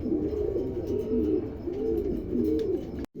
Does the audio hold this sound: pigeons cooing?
yes